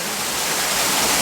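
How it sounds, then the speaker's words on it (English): Rushing water at a steep waterfall in a rocky stream, a loud, steady, close-up roar of flowing water with no voices. "You can hear the water right now."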